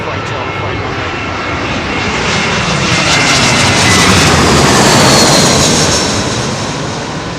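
A Boeing 747 freighter lands on runway 27L at London Heathrow, its jet engines roaring loud and steady, swelling toward the middle and easing off again, with faint speech now and then.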